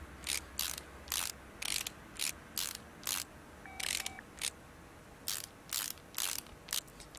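A ratchet wrench clicks in quick bursts while a belt tensioner is fitted in Car Mechanic Simulator 2018, about a dozen short regular ratcheting spurts separated by brief pauses, clear and close.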